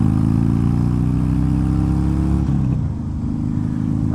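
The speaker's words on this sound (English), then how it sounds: "now I'm talking over the loud motorcycle" A loud motorcycle engine drones steadily while riding, with a rich low rumble and a brief shift in tone partway through as the pitch drops slightly.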